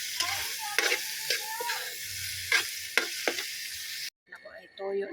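Meat drops into a pan of sautéed garlic and onion, bursting into a steady, close sizzle with scraping stirs through it, then cutting out abruptly before a quieter crackle resumes.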